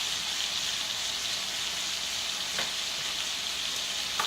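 Lamb chops sear in a hot pan with onions nearby, giving a continuous, even hiss of frying fat close by with a brief crackle partway through.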